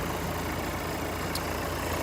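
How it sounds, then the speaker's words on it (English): A car engine idles steadily with a constant low rumble and broad hiss, unchanging throughout, and no one speaks. "The engine is running."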